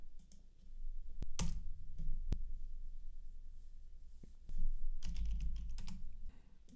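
Someone types a command on a computer keyboard in short bursts of close, crisp key clicks, with pauses between bursts and a quieter hum underneath.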